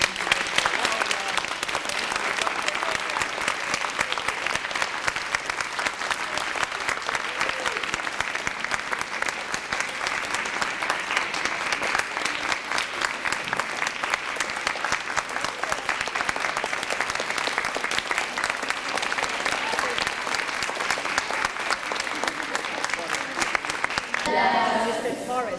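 A school audience at the J.F. Kennedy School gives long, steady applause for a speaker, a continuous dense clapping that lasts over twenty seconds and fades briefly at the very end.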